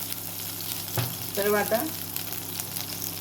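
Finely chopped garlic hits hot oil for noodles with a sudden loud burst of sizzling that settles into a steady crackle, a brief stir in the middle, and a few spoken words over it.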